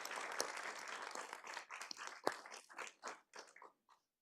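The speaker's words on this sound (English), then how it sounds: "And so I'd like to give Dan and his team a big round of applause at this time" Audience applause at a crime victims awareness event, dense clapping from many hands at first, then thinning into scattered claps that taper off to silence.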